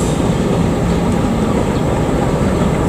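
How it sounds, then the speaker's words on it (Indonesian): Bandung Raya Ekonomi train rolls into Rancaekek station on track 1, a steady broad rumble of wheels and carriages, loud and close, with no pauses. "ini kereta api Bandung Raya Ekonomi masuk di jalur 1"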